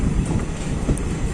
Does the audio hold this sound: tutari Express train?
yes